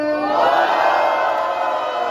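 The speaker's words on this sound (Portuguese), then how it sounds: "Faz muito barulho pra quem gostou das rimas do Big Mike" A large crowd cheers and shouts loudly and steadily at a student rap battle semifinal in Guarulhos, São Paulo, a dense wall of voices held throughout.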